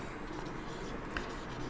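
Pen writing maths working on paper, a soft continuous scratching that stays faint and close behind a steady background hum, with no voice.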